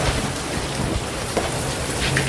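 Steady rain pours down in a dense, even hiss of drops hitting surfaces, continuous and fairly loud, with no voices.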